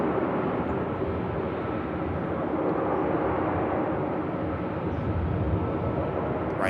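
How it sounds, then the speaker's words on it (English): Ryanair airliner being pushed back at Manchester Airport, a steady loud engine and ground-equipment drone with no breaks, no voices. "Ryanair being pushed back"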